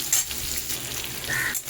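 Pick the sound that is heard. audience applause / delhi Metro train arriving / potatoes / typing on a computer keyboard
potatoes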